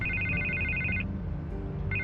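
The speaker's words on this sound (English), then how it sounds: "I can't get the phone to stop ringing." A telephone rings in Batman: The Telltale Series video game, two electronic trills at moderate volume with a short pause between them, over a low background hum.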